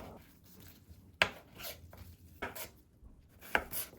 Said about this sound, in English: Firstly, cut the onion,